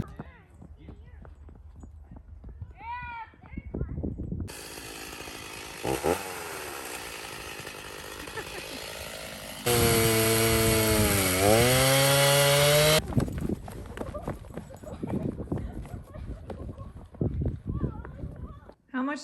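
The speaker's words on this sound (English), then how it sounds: "Cut it with my chainsaw." A chainsaw roars loudly nearby, revving and bogging as it cuts through a Fraser fir tree, with voices talking before and after.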